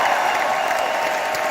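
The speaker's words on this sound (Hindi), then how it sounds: "एक बार जोरदार तालियां" Loud, dense applause from an audience at an award function, a steady wash of clapping filling the whole moment with no voices over it.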